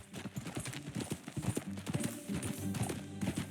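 Rhythmic clip-clop of horse hooves at a riding pace in the video game Red Dead Redemption 2, fairly close, with soft background sounds.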